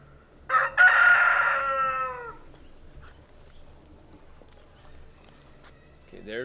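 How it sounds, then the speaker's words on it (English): A rooster crows once loudly and close by on a farm with Brahma chickens, a long drawn-out call followed by quieter clucking and faint farm ambience. "there's one hen"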